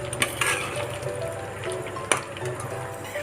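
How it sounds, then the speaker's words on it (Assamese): Chicken dry-fries in a pan with a steady, close sizzle and occasional sharp clinks and scrapes of stirring against the pan. "আনফালে আকৌ ফ্ৰাই কৰিছোঁ এয়া চিকেন"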